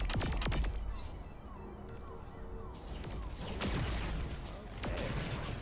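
Gunfire in the video game Saints Row IV: a series of sharp shots and bursts in quick succession, moderately loud over game ambience, with a voice talking faintly underneath.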